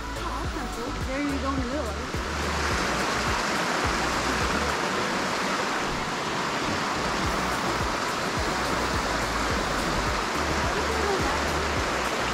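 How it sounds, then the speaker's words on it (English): A creek flows along the Billy Goat Trail at Great Falls, a steady rushing wash of water heard throughout, with people talking over it at times. "We gotta cross the creek"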